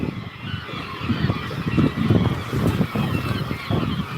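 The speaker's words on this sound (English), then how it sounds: "The gulls are off their nests" Gulls calling over their nesting island during a marine research trip, a loud, busy chorus of harsh overlapping cries close by, continuing without pause and mixed with low background rumble.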